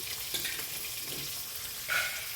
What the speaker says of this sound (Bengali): মাছ ভাজাটা প্রথমে বসিয়ে নিয়েছি